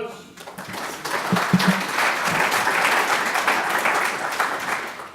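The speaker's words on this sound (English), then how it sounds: "Round of applause." An audience applauds after a keynote talk at a conference in Miami, steady dense clapping that swells and holds throughout, with a brief voice near the start.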